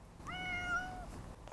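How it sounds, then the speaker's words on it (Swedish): A cat meows inside a garage: one drawn-out, rising-and-falling meow, close and clear over a low background hum, with no talking. "Ja, det är min katt."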